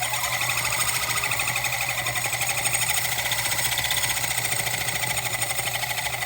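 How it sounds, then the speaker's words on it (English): Metal lathe cutting worn teeth off a Seth Thomas clock ring gear, a continuous loud whirring, chattering machining noise with a steady low motor hum running underneath, alone with no talk. "Machine the worn gears off."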